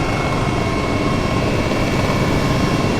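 An aircraft engine in Microsoft Flight Simulator roars steadily at high throttle over a Cuban beach, a dense continuous drone with no voices.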